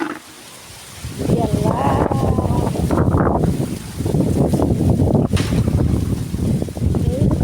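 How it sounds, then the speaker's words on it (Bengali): Gusty wind blows outdoors through a rooftop vegetable garden in Assam, roaring steadily across the microphone and buffeting it with loud, sustained rushes, while a person talks now and then underneath. "বাতাস উঠছে"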